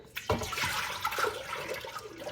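Strained tomato juice pours steadily into a pot on a stovetop set to medium-high, a continuous liquid splashing and gurgling that starts with a brief thump and runs unbroken to the end, close and moderately loud.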